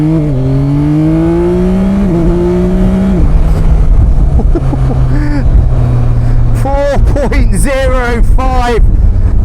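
A 2025 Yamaha Tracer 9 GT+ motorcycle with an automatic gearbox accelerates hard from a standing start, its engine pitch climbing in loud rising sweeps through several gear shifts, with excited voices near the end.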